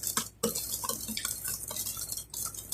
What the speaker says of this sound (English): we're going to whisk that into it with the honey